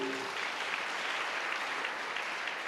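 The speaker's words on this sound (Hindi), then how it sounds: "जोरदार ताली।" Loud, dense applause from a church congregation, a steady wash of clapping that holds evenly from start to finish, with no voices.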